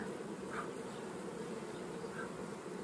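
Dense, steady buzzing of many honey bees close by at a hive, a constant drone with no voices.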